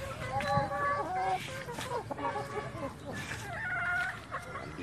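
Shamo cross chickens in a farm yard cluck and chatter in short, overlapping calls nearby, fairly faint, with a person talking softly among them.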